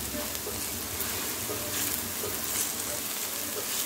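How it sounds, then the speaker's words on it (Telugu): Pieces of raw banana (aratikaya) coated in chili powder fry in a pan, a steady close sizzle and crackle of hot oil with occasional stirring scrapes throughout. "ఇలా ఒక 2 నిమిషాలు వేయించుకున్నాక"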